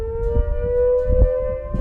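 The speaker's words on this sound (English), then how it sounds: "These warning sirens are used in the event of an emergency at the facility." A Three Mile Island nuclear plant emergency warning siren wails with a sustained, unwavering tone, loud and alone, with faint rumbling in the low end.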